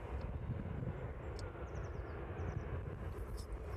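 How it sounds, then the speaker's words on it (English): Jet2 aircraft engines starting up at East Midlands Airport, a low distant rumble and steady roar with faint higher whines drifting in and out, heard from afar at fairly low level. "The Jet-2 starting up."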